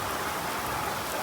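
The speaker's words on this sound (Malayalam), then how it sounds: "മഴ നല്ല ഉഷാറായിട്ട് പെയ്തിട്ടോ." Heavy rain with large drops pours down along a road trip in Ladakh, a dense loud hiss of drumming water filling the short stretch with no voices.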